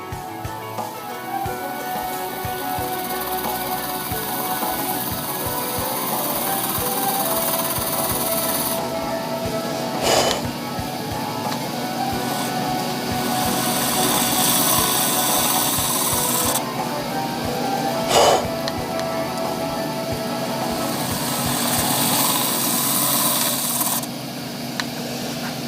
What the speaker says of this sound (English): now we're just going to go in with the spindle gouge